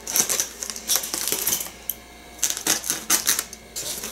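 Blade slicing through the packing around a boxed Westinghouse elevator indicator, heard as close, crisp cutting and crinkling in irregular bursts with short pauses between.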